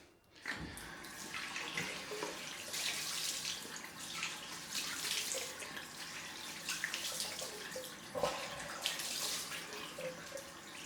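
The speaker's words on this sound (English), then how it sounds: "let's go for the cold rinse" Cold water runs from a bathroom tap to rinse a freshly shaved face, a steady close splashing stream with slight surges and spatters throughout, no talk.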